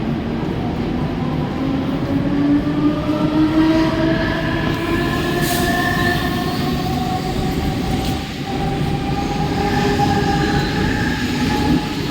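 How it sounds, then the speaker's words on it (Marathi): A Mumbai local train bound for Kalyan pulls in at platform 1, a steady rumble and rolling wheel noise with faint squeals, continuous and fairly close throughout, with no voices. "10 बजकर 17 मिनट की कल्याण जाने वाली ही लोकल पुणे की प्लॅटफॉर्म क्रमांक 1 पर आ रही है"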